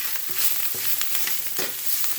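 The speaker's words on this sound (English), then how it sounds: "now we're going to hit it with some diced onions and garlic. I'm going to mix that right in there" Diced onions and garlic sizzling with marinated turmeric chicken in a pan over a low burner, a dense continuous frying hiss with a few stirring scrapes, near and fairly loud.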